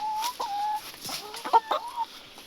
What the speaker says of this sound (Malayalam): ഇപ്പോൾ നമ്മുടെ കോഴികളെല്ലാം ഇതിൽ കൂടെ ഉണ്ട്.